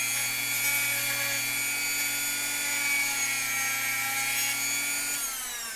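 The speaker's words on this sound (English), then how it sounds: "it's really easy to go too far, especially with something like a Dremel that takes off a lot of material quickly" A Dremel rotary tool spins at high speed while cutting material, giving a steady, close, high-pitched whine that holds for several seconds before its pitch shifts slightly as it eases off at the end.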